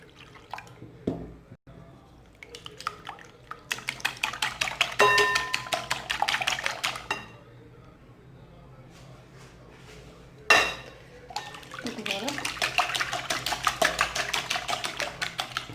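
Milk being added to crêpe batter in a bowl, quick bursts of whisking with rapid metallic clinks against the bowl, separated by quieter pauses, close and fairly loud.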